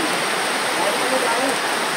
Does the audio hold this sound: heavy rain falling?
yes